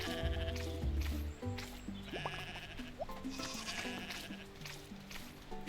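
Goats bleat in the farming video game Roots of Pacha, several short nasal calls scattered over a busy background of game music and farm ambience, fairly faint overall.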